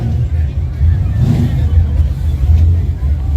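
A Ford GT350 engine rumbles and revs at a race event, a steady low drone with a swell midway, while crowd babble and nearby voices mix in throughout.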